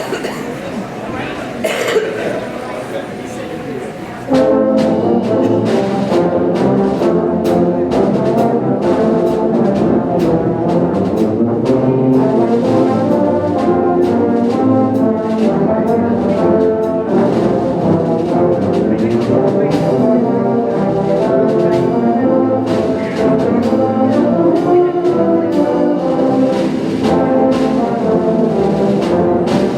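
Tuba ensemble playing Deck the Halls at a Christmas concert, a loud, full brass sound that starts after a few seconds of quieter murmur and carries on steadily throughout.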